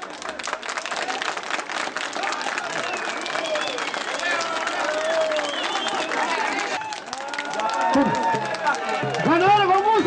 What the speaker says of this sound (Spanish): Quiero palmas. Palmas para la orquesta de Pasco.